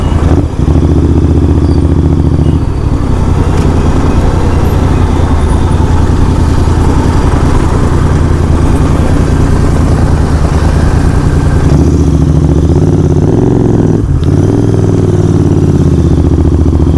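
A GT 650 motorcycle engine runs loudly close by, a steady throbbing idle with a brief rev and clatter near the end.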